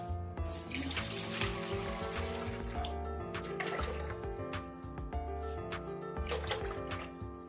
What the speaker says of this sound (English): We'll pour in some water.